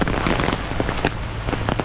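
Heavy rain pours down at Chankanaab in Cozumel, a loud, dense steady hiss of drops striking surfaces close by.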